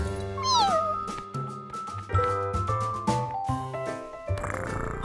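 A cartoon kitten lets out a rising, bending meow near the start, followed by playful plucked and tinkling musical notes that step along for several seconds, with no voices.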